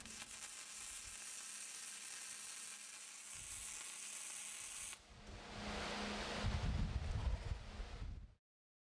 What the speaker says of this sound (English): You make one straight weld.